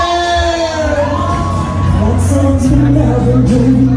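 An audience at a Big Foot Events tribute show applauds and cheers, with loud sustained clapping, whoops and shouts from a close crowd, while a pitched voice or music line carries through.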